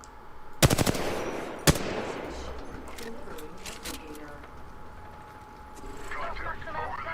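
Apex Legends gunfire: a rapid automatic burst followed by a single sharp shot, then scattered lighter clatters in the game, with a voice speaking over it.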